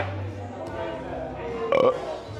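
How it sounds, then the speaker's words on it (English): A single short, throaty burp rises over a lively brewery background in the Wynwood district, brief and close, with low murmuring chatter around it. "Sorry for the burp."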